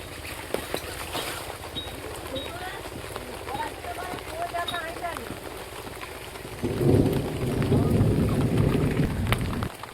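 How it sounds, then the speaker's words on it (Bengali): Heavy monsoon rain falls on a riverside village in the Sundarbans, a dense steady patter under a voice, growing noticeably heavier and louder over the last few seconds. "এই যে এত বৃষ্টি হচ্ছে"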